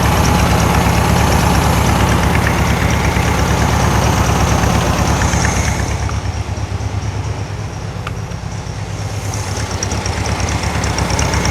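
A 1964 VW Beetle 1600cc dual port engine idles loud and close, a steady rough low chugging that eases slightly lower partway through and then holds, with no talk over it.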